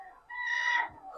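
A rooster gives one short, tense clucking call with a tonal rise, close by on a rabbit-keeping farm yard with faint background noise.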